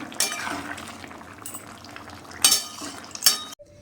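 Rui fish curry with bori and potato being scooped from a cooking pan into a serving pot, with several sharp metal spoon clinks and scrapes over a soft background hiss, two louder clatters near the end.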